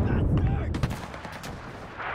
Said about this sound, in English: They are covering it with artillery.